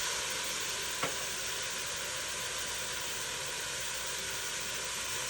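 Garlic and red pepper flakes sizzling in a pan, a steady, even hiss of frying at close range with one faint click early on and no talk.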